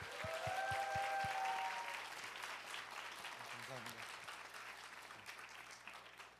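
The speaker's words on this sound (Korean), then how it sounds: "우리 박수로 크게 환영하겠습니다." A seminar audience applauds to welcome a visiting lecturer, a steady wash of clapping that fades gradually, with a voice speaking over it near the start.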